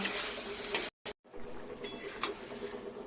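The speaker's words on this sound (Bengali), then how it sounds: "ডালটা দিয়ে একটুখানি নেড়ে নেব" Dal with spices stirred in a cooking pot for sabu khichuri, a soft steady scraping and bubbling close by, with a brief cut of silence partway through.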